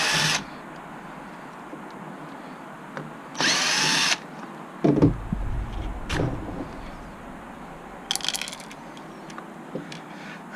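A power drill removes the handle grip screws on a Zip scooter in three brief, loud whirring bursts. Close, clattering knocks from handling the parts come between the bursts.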